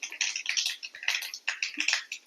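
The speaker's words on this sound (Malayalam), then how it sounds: "കടുക് നന്നായിട്ട് പൊട്ടുന്നുണ്ട്." Mustard seeds splutter in hot oil while a home-style elephant foot yam dish is prepared, producing close, rapid bursts of irregular crackling pops that come in quick clusters with short pauses.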